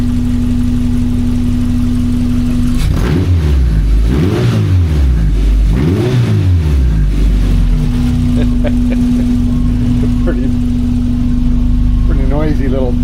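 A 1982 VW Westfalia engine runs loudly and close by, rising through several revs with a rough idle in between, while people talk over it.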